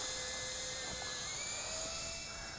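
A small brushless FPV whoop racing drone in flight, a high, steady electric whine with shifting pitch as the motors speed up and slow down, close and continuous.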